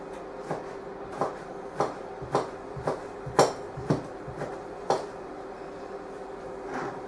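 A knife slices vegetables lengthways into fine slices about 3 millimetres thick on a chopping board, each cut ending in a close, crisp knock against the board, about ten in a steady rhythm with no talking.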